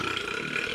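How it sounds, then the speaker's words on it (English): A drawn-out, continuous burp sounds over its whole short length, fairly loud and close, with nothing else around it. "Holy burps."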